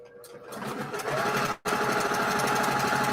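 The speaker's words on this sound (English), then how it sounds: "And now I'm going to sew on the line." Sewing machine stitching along a marked line on quilt fabric for a sampler quilt block, a steady close mechanical whir with a brief stop midway before resuming, with no talking.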